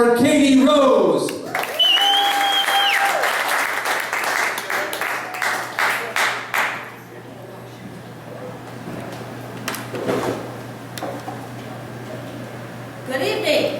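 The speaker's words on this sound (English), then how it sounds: "please big round of applause for KatieRose." A crowd breaks into applause that swells, then thins into scattered claps and fades out, with a voice speaking over it at the start.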